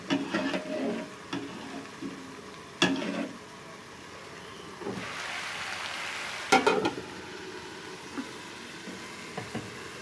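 Red lentils and tomato being cooked in a pan over heat, with a steady soft sizzle and a few sharp clinks and scrapes of a stirring utensil against the pan, close by and without talk.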